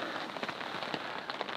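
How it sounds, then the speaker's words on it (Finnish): Light rain of about 1–2 mm per hour patters steadily on a budget family tent, a dense, even spray of drops close overhead with no voices. "Nyt tämä on varmaan jotain 1-2 milliä tunnissa tämä sade."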